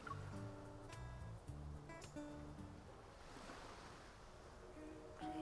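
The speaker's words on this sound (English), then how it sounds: "The sound of the waves reverberates near my ears" Churning sea waves wash and roll steadily in a video game scene, a continuous surf layered under soft tonal music with no speech.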